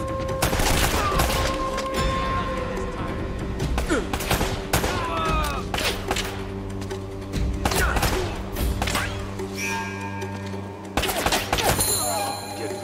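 Dense gunfire from the video game Uncharted: Drake's Fortune, with rapid bursts, heavy thumps and impacts layered over game music, loud and continuous throughout.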